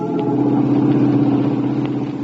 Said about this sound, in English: That's his car right ahead of us, Vance.